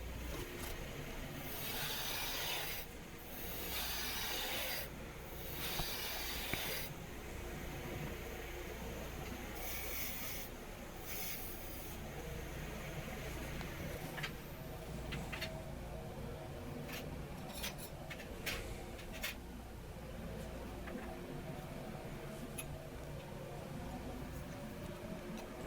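Maple blank spun on a wood lathe while being trued up: a continuous rough rubbing and scraping of the tool against wood, with bursts of harsher cutting and scattered ticks, moderately close over a steady motor hum.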